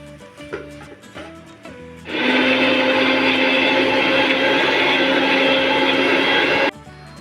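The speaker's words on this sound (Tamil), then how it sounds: "கொஞ்சமாக கொத்தமல்லி தழை ஒரு இனுக்கு கருவேப்பில்லை இதை குறை குறைன்னு அடமாவு பதத்துக்கு அரைச்சி எடுத்துக்கணும்" A mixer grinder whirs loud and steady for about four and a half seconds, coarsely grinding coriander leaves and a sprig of curry leaves into a batter, after a few light clinks of handling before it starts.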